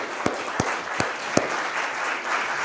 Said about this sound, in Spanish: dale un aplauso al Señor o ríase, no lo sé